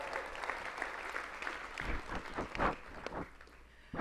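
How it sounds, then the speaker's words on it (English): A burst of applause from a crowd, steady clapping with a few louder peaks, filling the space without speech. "give a round of applause."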